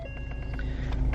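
A loud four-cylinder engine in a 2011 Ford Escape idles roughly and close by, with a steady low rumble and a faint beeping over it.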